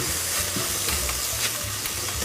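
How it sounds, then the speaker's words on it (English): Sliced button mushrooms fry in a pan with a dense, continuous sizzle and crackle, close and fairly loud, with no voices. "I'm going to fry the mushrooms until they're golden all over"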